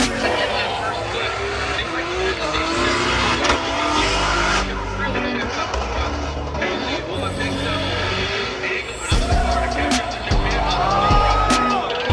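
Formula Drift cars at Atlanta scream through drifting laps, engines roaring and tires squealing continuously from mid-distance, with crowd noise and voices mixed underneath.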